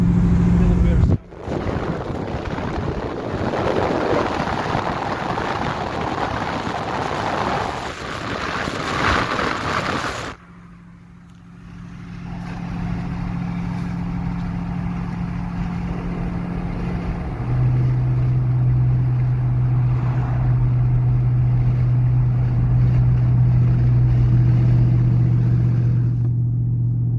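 A 2019 Dodge Charger R/T cruises with a low, steady engine and exhaust drone beneath loud road and wind rush, which changes as a window is lowered partway.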